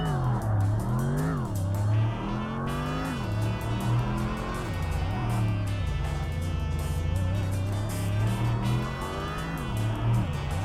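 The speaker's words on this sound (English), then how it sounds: "I'm pretty sure this car has the same exact engine sound effect as the Pantera from Tokyo Xtreme Racer 3" Engine of a Volkswagen Golf R32 in the racing game Tokyo Xtreme Racer Drift 2, loud and continuous, repeatedly revving up through gears and dropping back between shifts.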